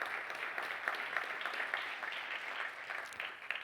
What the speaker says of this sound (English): That's not worthy of applause yet